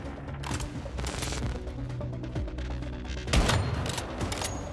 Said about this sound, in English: I'm just gonna stay here and shoot these guys until I got my deviation back.